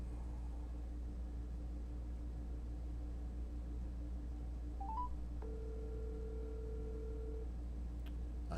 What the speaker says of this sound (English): I hear it ringing, but I don't see it on Skype.